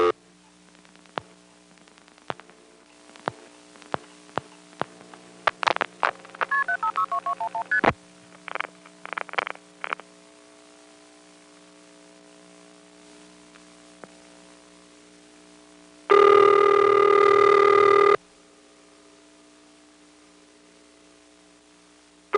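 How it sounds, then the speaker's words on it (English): On a 1974 NX1 crossbar exchange in Greenville, North Carolina, scattered switching clicks and a quick series of touch-tone dialing beeps give way, after a pause, to one loud, steady two-second ringing tone over faint hum. "Now I'll dial a ringing number"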